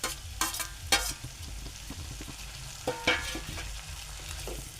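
Onion and tomato sautéing in a pan, a soft continuous sizzle broken by sharp scraping stirs of the spoon against the pan, clustered early and again near the end, with no voices.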